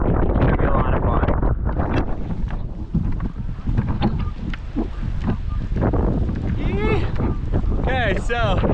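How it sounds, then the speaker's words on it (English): Strong wind buffets the microphone in loud, gusty roars over open water during parawing SUP foiling, with some splashing and a few faint shouts. "It's a windy day."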